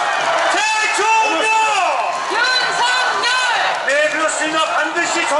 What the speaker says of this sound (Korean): 여러분 이 함성, 이 응원 잊지 않겠습니다